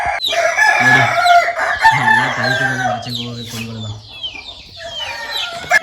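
Chickens cluck loudly at close range while a rooster crows with long drawn-out calls as a backyard hen shed is opened in the morning, the calls overlapping continuously.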